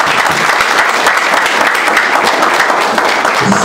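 Loud, sustained applause from guests at a Haitian wedding in Brazil, dense and close clapping that continues evenly throughout without a break.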